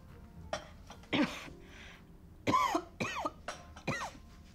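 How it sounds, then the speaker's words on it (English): Several harsh coughs and throat-clearing bursts, close and loud, spaced irregularly with quiet gaps between them. "You've been coughing since yesterday."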